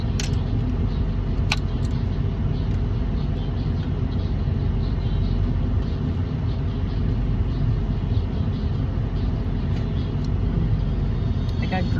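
Steady low road rumble from inside a truck cruising on a highway during a cross-country road trip toward Palm Springs, continuous and even throughout with a brief faint click early on.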